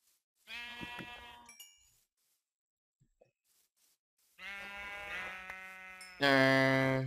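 Minecraft sheep bleating in the video game, a loud wavering bleat, a near-silent gap, then two more bleats back to back, the last one harsher and louder, with no talk.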